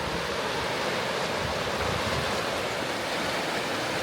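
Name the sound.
river water rushing over a weir during flooding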